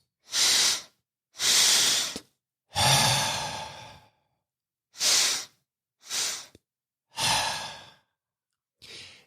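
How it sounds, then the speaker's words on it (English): Cyclic sighing breath work: seven loud, close breaths separated by silences, each a sharp nasal inhale or a long whooshing exhale blown out through the mouth, with no talking. "It can be simple as what is called cyclic sighing, and I'm going to demonstrate that for you."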